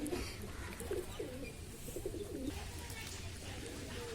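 A pigeon being fed in the morning coos softly several times in a row, low throaty calls over a faint steady background hum.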